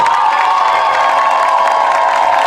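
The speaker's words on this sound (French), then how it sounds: "tes acclamations sont trop timides" A church conference audience cheers and acclaims as a prophet is welcomed to the stage, a steady loud wash of crowd voices and shouts with some applause mixed in, continuous throughout.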